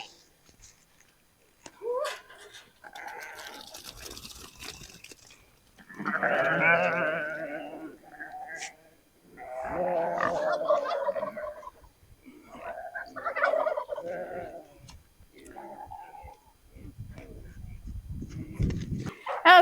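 Sheep on a farm bleat as they wait in line at feeding time, with several loud, wavering bleats in bursts separated by pauses. The calls sound near and a gobbling-like quality runs through them.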